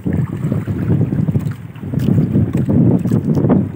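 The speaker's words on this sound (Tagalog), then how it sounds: "Malakas ang hangin mga idol at medyo maalon." Strong wind buffets a boat at sea on choppy, whitecapped water, a loud continuous low roar of gusts and microphone wind noise that swells and dips without pause.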